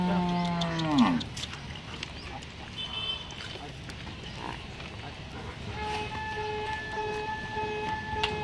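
A Haryana dairy buffalo lows once, loud and close, with a drawn-out falling call while the animals are being unloaded. Faint clatter and steady mechanical tones follow.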